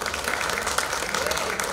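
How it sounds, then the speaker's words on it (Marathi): Audience applause at a prize ceremony for a cricket tournament, a dense continuous clapping from a crowd that carries steadily throughout. "सर्वांना विनंती आहे ज्या वेळेला सन्मान होईल त्यावेळेला सर्वांनी जोरदार टाळ्या वाजवायच्या आहेत"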